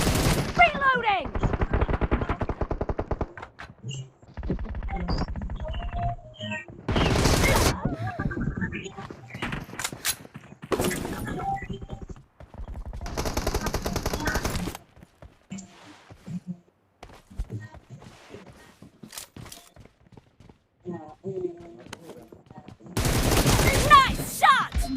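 Gunfire in a shooter video game, bursts of rapid automatic fire broken by quieter gaps with clicks and footsteps, loud and close, with a game voice calling out between the volleys.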